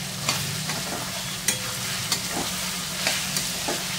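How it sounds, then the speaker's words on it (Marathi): Mixed vegetables including capsicum and cauliflower sauté in hot oil for hotel-style veg pulao, a steady close sizzle broken by several sharp scraping stirs of a spoon in the pan, with no voices. "त्या भाज्या आपल्याला छान असा परतून घेऊन त्याच्यावर 5 मिनिटासाठी आपल्याला त्या तेलावर शिजवून घ्यायच्या आहेत."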